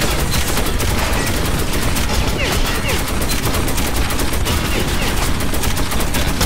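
Loud, rapid gunfire from the video game Metro 2033 Redux fills the whole stretch as a dense rattle of shots, with a voice faintly present beneath it.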